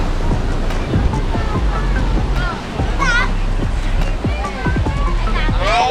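Sea waves wash against a rocky shore near a lighthouse at Bolinao, Pangasinan, making a constant rushing surf under wind noise, while people talk and call out over it.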